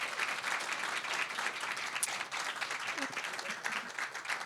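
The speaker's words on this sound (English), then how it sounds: "Give them a big round of applause." Audience applause for panelists at a small business entrepreneurship celebration: steady, dense clapping from a sizeable crowd, sustained throughout at even loudness, with faint voices mixed in.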